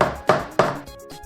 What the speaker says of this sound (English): The posa, I need to break it open.